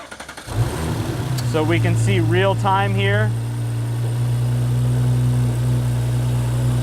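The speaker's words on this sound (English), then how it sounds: "go ahead and start the car" An Audi B9 car engine cranks and catches about half a second in, then settles into a steady, fairly loud idle while people talk nearby during a DT Power installation.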